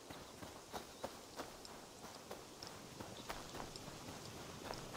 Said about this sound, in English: Sprinting.